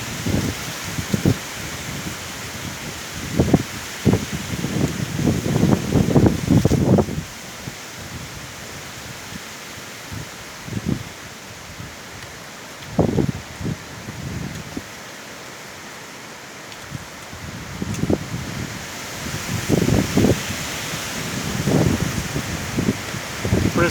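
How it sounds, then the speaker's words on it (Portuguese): Strong wind gusts through eucalyptus trees in a broad rushing roar, rising and falling in waves with bursts of leaf rustle, no voices. "Vento muito forte"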